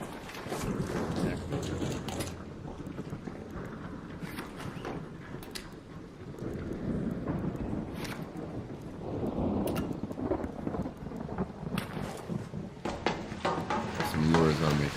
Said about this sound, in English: an electromagnetic storm is currently raging over topside. Beware the lightning strikes if you're outdoors.